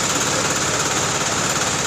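A GBU 30L drilling machine running on two motors gives a loud, steady, close mechanical drone with a rough, buzzing texture and no pauses.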